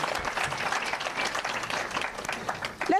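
Applause from an audience at a women's rights convention honoring a businesswoman turned politician: a dense, steady wash of many hands clapping in a hall, with some brief voices mixed in near the end.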